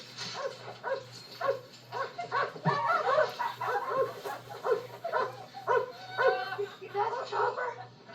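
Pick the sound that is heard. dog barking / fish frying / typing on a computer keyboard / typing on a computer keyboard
dog barking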